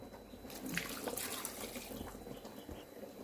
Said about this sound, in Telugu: ఇప్పుడు వాటర్ పోసుకోండి